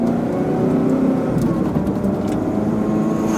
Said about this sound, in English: here's a little bit of gas in first, but we don't want to go too fast.